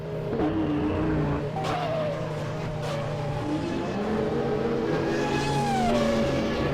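A 1996 Jordan F1 car in a racing video game, driven at Montreal: a continuous high-pitched engine whine that rises and falls through gear changes, loud and close, with no talking.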